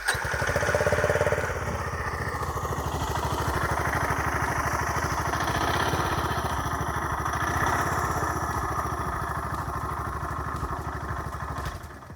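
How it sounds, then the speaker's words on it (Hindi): A motorcycle engine idles close by with a steady, rapid thumping beat, briefly a little louder at the start, then running evenly until cutting off. "अब मैं आपको नई वाली गाड़ी की आवाज़ सुनाता हूँ"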